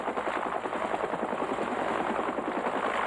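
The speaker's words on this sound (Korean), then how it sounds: "기자들을 태운 휴이 헬기가 그곳에 도착하자" A Huey helicopter carrying reporters flies over the Spratly Islands in the South China Sea. Its steady, loud rotor chop and engine roar run continuously, with no voices.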